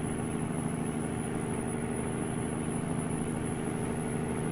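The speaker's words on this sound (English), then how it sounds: "Man, listen to that engine roar, man." A heavy truck engine in a trucking video game drones steadily and loudly at a constant pitch, a low rumbling hum with no break and no voices over it.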